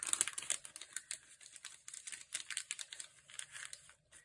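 Stationery packaging of stickers and stamps being opened by hand: quiet, rapid crinkling and rustling plastic with small irregular crackles throughout, close and soft, no voices.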